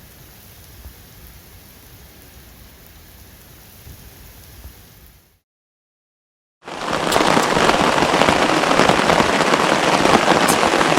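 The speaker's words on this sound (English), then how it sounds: "the rain really came down hard." Heavy rain falls in a German town, first as a soft steady hiss, then after a brief silent gap as a loud, dense downpour pattering hard on surfaces, with no voices.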